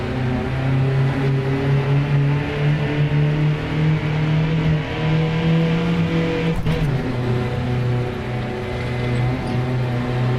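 A car engine in a racing video game drones at a steady, rattly pitch, with a brief knock partway through, and the tone holds close and loud for the whole stretch.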